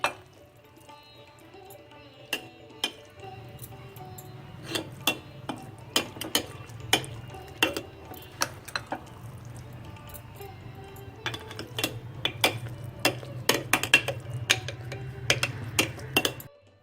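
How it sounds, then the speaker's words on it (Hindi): Malta-galgal citrus pickle is pressed and packed into a dry container, giving off sparse, close clicks and light clinks over a low, steady hum. "अब इसे सूखे कंटेनर में भरकर रखेंगे। इस तरह से दबा दबा कर भर देंगे।"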